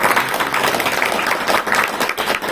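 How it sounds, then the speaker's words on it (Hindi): A crowd applauding steadily, many hands clapping together in a continuous, fairly loud wash of sound. "इनके लिए एक ताली बजाएंगे सब लोग"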